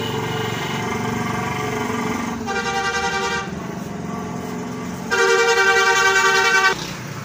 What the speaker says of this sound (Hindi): तो एक तो रोड पे है शॉप मेरी, तो गाड़ियों का शोर आ जाता है